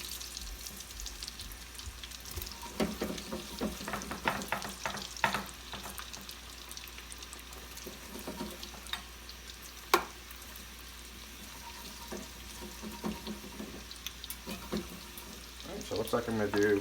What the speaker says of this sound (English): Now I'm going to use the same oil. And I'm going to start adding my French fries to it.